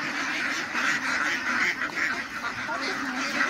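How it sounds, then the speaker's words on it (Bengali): A big flock of ducks and geese at a desert farm in Saudi Arabia honk and quack together, a loud overlapping chorus that rises and falls for a few seconds. "কত হাঁস,"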